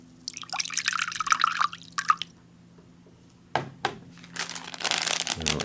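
Water poured into a 1992 MRE pouch for mixing cocoa beverage powder, a close trickling splash mixed with crinkling plastic, pausing briefly before more rustling and pouring.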